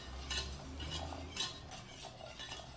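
Beer whisked into beer cheese in a bowl, a rhythmic series of close metallic whisk strokes clinking against the sides, repeating about once every half second.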